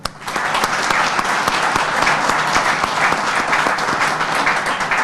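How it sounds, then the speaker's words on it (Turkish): An audience at a Turkish association's community event applauds in honor of elders and martyrs, loud, dense and continuous clapping from a sizable crowd, sustained throughout with sharp individual claps standing out. "Büyüklerimiz ve şehitlerimiz için önce bir alkış istiyorum buradan."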